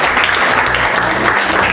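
A school interview competition audience clapping for Muniba Mazari, a dense, steady burst of applause close up that fills the whole short stretch without pause.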